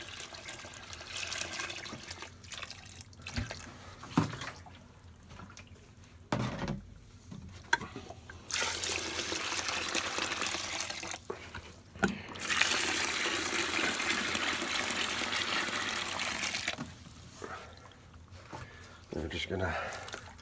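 Water pours and gushes onto tall stacks of paper being soaked to make paper logs, a steady rushing fill with pauses, while people talk over it.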